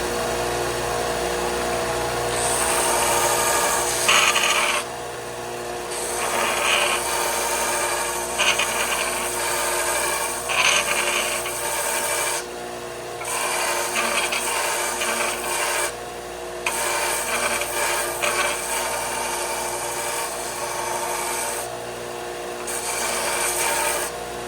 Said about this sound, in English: I'm just going to use my sander